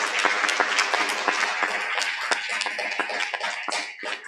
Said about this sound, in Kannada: ಚಪ್ಪಾಳೆ ತಟ್ಟುವ